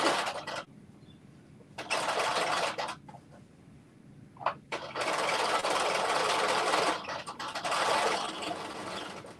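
A sewing machine runs in several loud bursts, stopping and starting: a short burst, a longer run of about two seconds, then two long stretches of fast, steady stitching close by.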